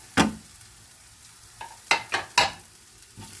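A frying pan holds chili, pepper, fennel and turmeric powder being stirred, with a few sharp scraping strokes and brief sizzling bursts spaced irregularly over a quiet background.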